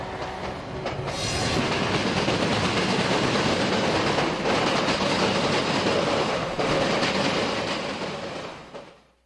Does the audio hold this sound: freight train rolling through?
yes